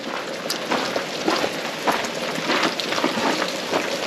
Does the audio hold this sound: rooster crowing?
no